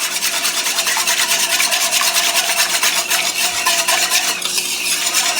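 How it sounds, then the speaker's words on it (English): A whisk beats a thick honey salad dressing in a bowl, giving a steady, rapid scraping and stirring texture that runs close and continuous without pause. "That honey is going to make it a little bit more hard to whisk, so just take your time and just get it whisked up"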